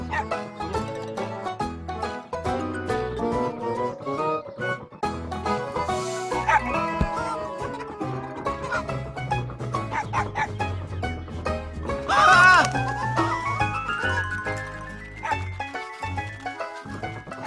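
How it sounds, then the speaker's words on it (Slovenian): In a cartoon, a puppy barks inside a henhouse, with several sharp yaps mixed among clucking hens and a light musical backing, fairly close and busy throughout. "Jedno štene je u kokošincu, Vizi."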